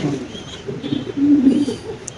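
Fancy King pigeons coo up close, a few low throaty rolling calls rising and falling over about two seconds, loud and clear against a quiet background.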